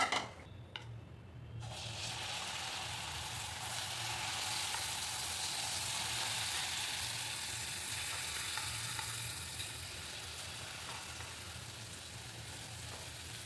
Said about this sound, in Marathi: मी आता इथे एक साईडला भजी तळून घेते